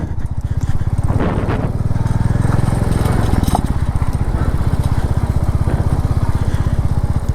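A motorcycle engine runs steadily while riding along a road in Purulia, its low rhythmic throb loud and close throughout, with wind and road noise mixed in.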